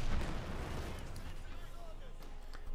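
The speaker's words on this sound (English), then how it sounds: "the Comet is certainly doing what it can here with its 77mm gun and machine guns." A Comet tank's 77mm gun and machine guns fire in a Company of Heroes 2 battle, with heavy rumbling blasts and continuous low battle noise under a commentator's voice.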